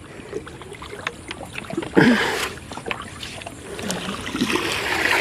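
Water splashes and swishes as oars dip and pull on a river, with a louder stroke midway and a gentle wash of water continuing around the boat.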